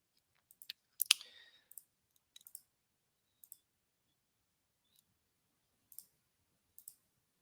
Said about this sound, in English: I will click on the different menu right here